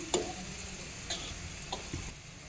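Garlic and onion sautéing over a low flame for eggplant bharta, with a soft steady sizzle broken by a few sharp spoon-on-pan stirring clicks.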